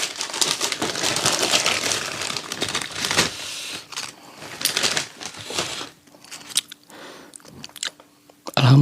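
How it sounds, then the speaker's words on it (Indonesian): A crunchy snack is chewed right at the microphone in dense, crackly bites that continue steadily, then thin out and grow quieter toward the end. "Pengen yang kriuk-kriuk"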